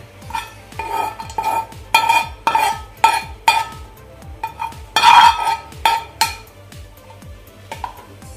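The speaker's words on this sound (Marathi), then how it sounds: "पहिल्यांदा हे आपण मिक्स करून घेऊया ड्रायफ्रुट्स यामध्ये." A spoon scrapes and stirs fried dry fruits through a churma ladoo mixture in a metal pan, repeated rhythmic scraping strokes with light clinks of the pan, close and fairly loud.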